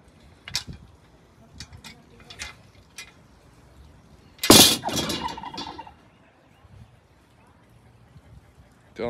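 A turkey gobbles in a backyard urban farm setting, a burst of loud rattling gobbles close by amid scattered clucks and light handling noises, with brief talk nearby.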